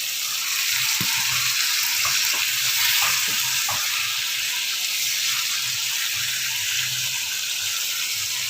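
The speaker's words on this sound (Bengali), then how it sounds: "নাড়িয়ে নিচ্ছি সবজিটা" Vegetables, pumpkin with Malabar spinach greens, sizzling in a pan as they are stirred, a constant bright frying hiss with a few soft scrapes and knocks of the spoon.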